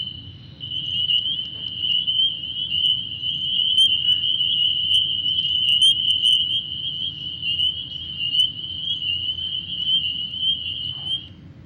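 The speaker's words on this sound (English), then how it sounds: "That's the spring peeper." A wetland chorus of spring peepers, a native chorus frog, forms one steady, shrill high-pitched trill, sustained and unbroken over a low murmuring room hum as it is played back in a council meeting hall.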